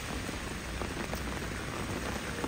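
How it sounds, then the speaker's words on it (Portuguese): Steady rain in Balneário Camboriú, Santa Catarina, Brazil, patters densely on a surface, a constant close hiss of drops with no voices. "Não achei que ia chover assim, galera,"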